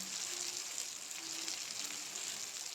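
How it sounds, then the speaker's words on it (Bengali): Spice powders, including coriander powder, frying in oil in a pan, giving a steady, soft sizzle that runs evenly throughout with no talk. "ধনে গুঁড়ো দিয়ে ভালো করে মশলাটা ভাজতে হবে"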